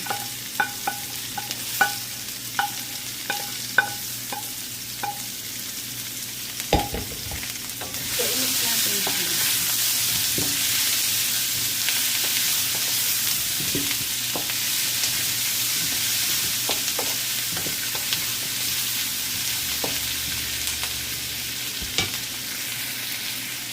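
Garlic, onion and celery sauté in a pan for chicken adobo, opening with sharp spoon clinks before a loud steady sizzle takes over, with occasional scraping stirs throughout and no talking.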